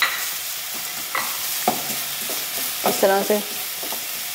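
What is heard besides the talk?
vegetables and keema frying in a pan while stirred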